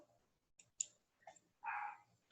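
Computer mouse clicks while working in Moodle, a few quiet, sharp separate clicks close to the microphone with a brief soft rustle in between and no talking.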